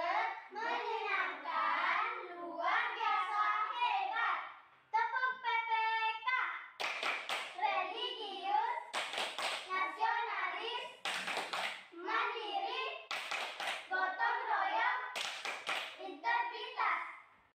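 Elementary school children perform the Tepuk PPK clapping chant, singing a rhythmic verse together and punctuating it with sharp, synchronized bursts of hand claps at regular intervals.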